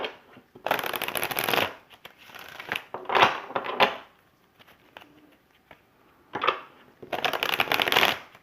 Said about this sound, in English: I'm going to pull another clarifying card for this last card for you.